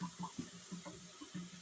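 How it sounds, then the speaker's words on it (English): Cold tap water runs into a cooking pan in a kitchen sink, a steady close pour with a few splashy surges, no voices. "you go ahead and fill that pan back up again."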